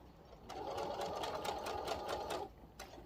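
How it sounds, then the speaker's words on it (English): A sewing machine runs a short reverse back stitch on a fabric piece for an Easter project, a steady close whirring hum with rapid needle ticks lasting about two seconds, then stopping with a faint click after. "I'm going to back stitch"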